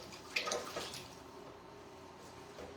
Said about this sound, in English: So let me wash my hands off.